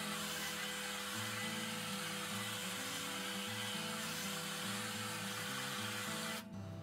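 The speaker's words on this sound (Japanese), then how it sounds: "ドライヤーをまずは根元に当てていきます" A hair dryer held close to the roots of the hair, blowing with a loud, steady rush of air over a humming motor that shifts slightly in pitch before cutting off just before the end.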